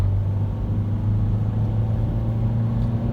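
A tuned, remapped car engine held around 2000 rpm hums steadily at a low, constant drone with deep rumble, loud and close, without obvious rising revs.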